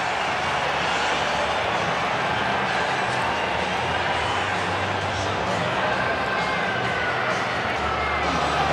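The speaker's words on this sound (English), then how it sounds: "Now the crowd really revved up for this." A rugby stadium crowd roars before Scotland v Samoa at the 2015 Rugby World Cup. The dense, steady wash of voices and noise holds at an even level throughout, with no single voice standing out.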